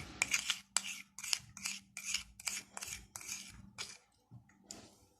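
Homemade salt toothpaste mixture being stirred: quick, rhythmic gritty scraping strokes, about a dozen in succession, close and fairly quiet with no talk.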